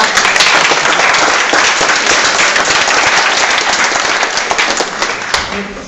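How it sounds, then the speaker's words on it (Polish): A hall audience at an award ceremony for school winners in Opoczno gives loud, dense applause that stays strong before easing slightly at the end. "Jeszcze raz brawa."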